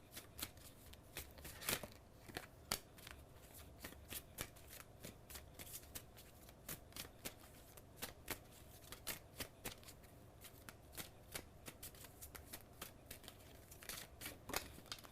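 Romance Oracle deck cards shuffled continuously in a quiet room, a steady stream of soft riffling flicks and sharp snaps spread across the whole stretch, close and fairly faint with no talking.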